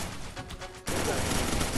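Gunfire in a shooting video game bursts in abruptly and stays loud and dense, following a quieter stretch where faint game sounds and a voice are present.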